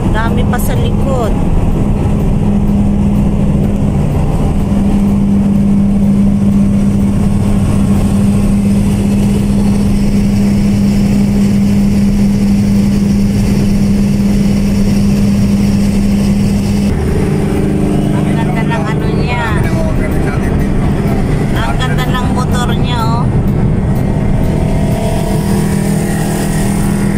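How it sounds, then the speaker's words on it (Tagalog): Various kinds of motorcycles roll past on a road in Redcliffe North, a continuous loud engine drone with a steady hum that shifts as different bikes go by, while people chat nearby. "Iba-ibang klaseng motor"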